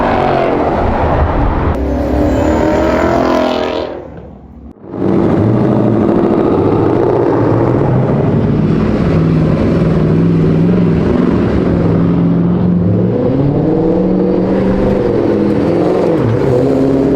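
A Mustang drift car at a track day revs hard and loud, its engine note briefly dropping away before surging back into a sustained, howling roar.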